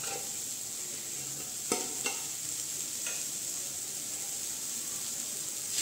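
Chana dal tipped into a pan of fried soybean and spices, with a steady background sizzle, a couple of sharp scraping stirs and a brief rustle as the lentils land, no voices.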